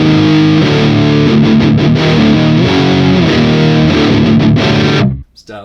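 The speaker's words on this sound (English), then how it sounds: "I kind of want to hear what that Mesa emulation sounds like since I'm playing through a Mesa cabinet" Electric guitar played through a Mesa amp emulation on a Hotone Ampero into a Mesa 4x12 cabinet, thick distorted chords and riffs ringing loud and steady before cutting off abruptly near the end.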